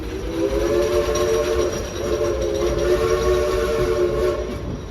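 A steam train's whistle blows in two long sustained blasts over the steady rumble of the moving train.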